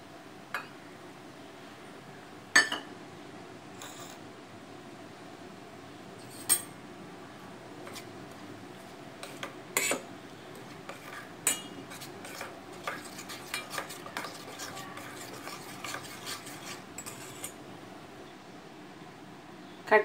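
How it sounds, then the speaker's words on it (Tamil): Corn flour, rice flour and a little milk being mixed smoothly in a bowl, with faint scattered clinks and taps of a utensil against the bowl over a quiet background, the taps growing more frequent toward the end. "சோள மாவு, அரிசி மாவு சேர்த்து கொஞ்சமாக பால் சேர்த்து அதை கட்டி இல்லாமல் மிக்ஸ் பண்ணி எடுத்துக்கோங்க"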